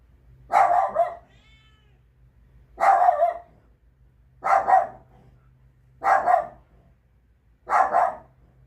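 Pet puppies bark indoors, five separate barks at evenly spaced intervals about every second and a half, each loud and close over a faint low hum.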